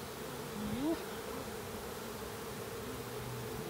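A honey bee swarm hums in a thick, unbroken drone, one bee briefly rising in pitch as it passes close.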